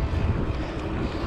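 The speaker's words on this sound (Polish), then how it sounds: "No niestety dzisiaj tak jakoś ten wiatr tak hula" Steady wind buffeting a microphone on the Vistula Spit canal cut in Poland, a continuous low rumbling roar with no voices.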